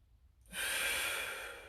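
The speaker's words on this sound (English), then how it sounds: "work on your breathing, deep breath in" A deep breath drawn in while holding a lat stretch with a stick or pole, starting after a half-second pause and swelling into a steady, close, airy rush that holds and slowly eases.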